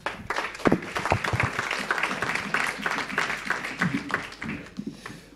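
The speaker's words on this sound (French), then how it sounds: "Merci beaucoup, Oriane, on peut encore l'applaudir." An audience at a French research talk event claps for a presenter: moderate applause with distinct individual claps, fairly even for about five seconds and slightly distant in the room.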